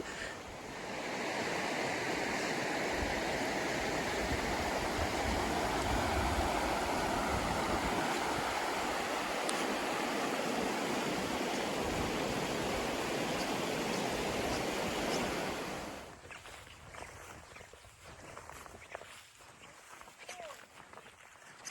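The Mararoa River flows along a hiking trail, a steady broad rush of water that fills most of the stretch before dropping away abruptly to quieter ambient sound near the end.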